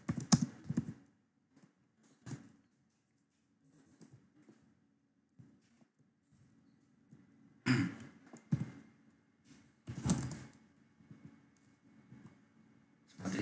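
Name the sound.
typing on a computer keyboard while scripting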